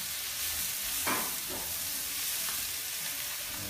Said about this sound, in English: it's like cooking up nice and quickly. Just keep stirring it around so it doesn't like burn to the pot